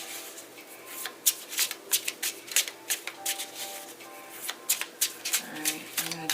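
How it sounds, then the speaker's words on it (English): A tarot deck is shuffled by hand during a reading. Quick rhythmic riffles and soft card slaps come up close and fairly quiet, repeating in short bursts throughout. "I'm going to do 3 shuffles."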